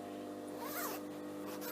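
A zipper on a thin fabric sewing organizer is pulled closed in one smooth, short rasping stroke, close by over a constant droning background.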